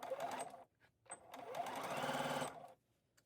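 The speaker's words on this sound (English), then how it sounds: "And just continue to sew all the way around the neckline." A sewing machine stitches bias tape around a garment neckline at a 3/8 inch width, running in two close, steady bursts separated by a brief pause.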